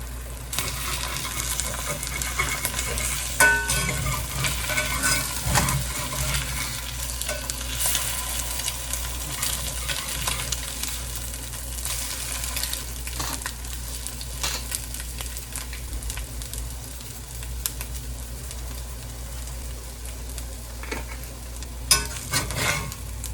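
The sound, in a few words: corned beef hash frying and being stirred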